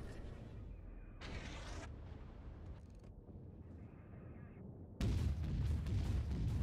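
Naval gunfire rumbles through a World of Warships battle, low booms and distant shell impacts rolling under game noise, ending in a louder, denser burst of firing that continues to the end.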